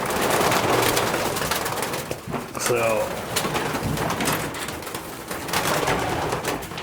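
Racing pigeons coo inside a loft in Idaho, the soft calls rising over a dense, noisy background while a person speaks briefly.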